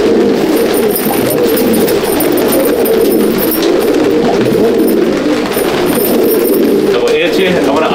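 Madraasi pigeons coo in a low, throaty, rolling rhythm, close by and repeated throughout, with bursts of higher chirping near the end and someone speaking Bengali over them.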